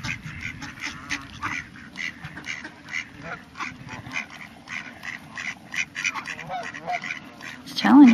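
A flock of ducks quacks steadily in a rapid, overlapping chorus, with a person's voice briefly rising over them at the end.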